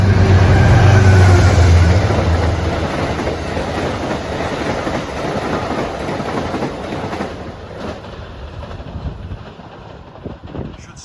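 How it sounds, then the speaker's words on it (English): An Amtrak passenger train, Penn Station to Niagara Falls, rumbles past nearby, loud at first with a low roar, then gradually fading with steady rolling and clattering noise. "here comes a train that's going to see a lot of New York State"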